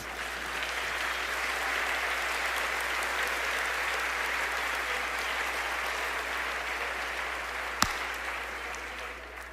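A church congregation applauds during a preaching service, sustained even clapping from many hands across the room, moderately distant and steady, with a single sharp knock near the end and a low hum beneath.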